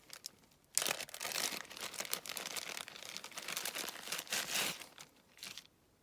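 A plastic sachet holding lace is crinkled and crumpled in a long, fumbling struggle to open it, close and fairly quiet, with short pauses and no talking.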